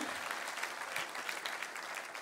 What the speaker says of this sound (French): Je crois qu'on peut les applaudir, les jeunes